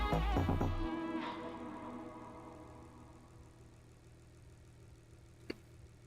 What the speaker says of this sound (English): Dude, this car, I can't get over how good this car sounds.